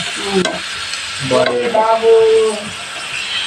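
Chicken fries with curry leaves, chilli, garlic and turmeric, giving a loud, close, steady sizzle while a tonal voice or background sound rises over it partway through.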